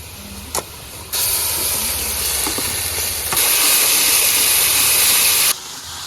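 Dry chilli, cumin and ginger-garlic paste hit hot oil in a pan with browned onions, a loud close sizzle that bursts in suddenly, surges louder, then cuts off.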